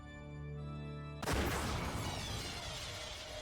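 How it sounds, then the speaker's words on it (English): A single gunshot in the visual novel Umineko When They Cry cracks abruptly over a steady droning musical tone, then trails off in a long reverberant decay. "when the number 3 was yelled, the sound of gunfire rang out once."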